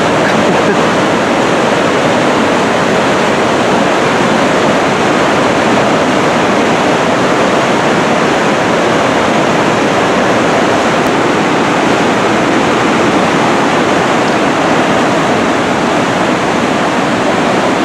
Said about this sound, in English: The whole river is coming down.